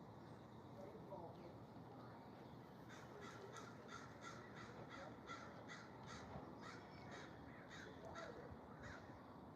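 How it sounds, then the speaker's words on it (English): Crows caw repeatedly in a steady series of short calls, somewhat distant and faint over a constant low outdoor hum, with no talking. "Oh, there go the birds."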